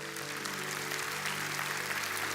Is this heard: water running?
no